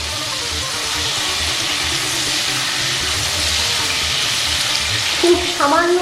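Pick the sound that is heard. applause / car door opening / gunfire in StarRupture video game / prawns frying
prawns frying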